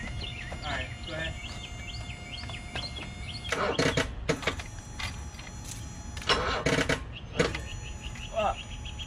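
An old BMW E24 6 series cranks repeatedly with loud bursts of starter and sputtering as it tries to start for the first time, under a steady background hum and people talking nearby.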